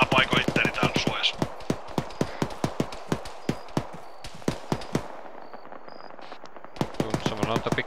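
Rapid gunfire rattles through a firefight in the military video game Arma, sharp cracking shots in quick irregular bursts, close and loud, with a brief lull before another volley and a voice talking over the start.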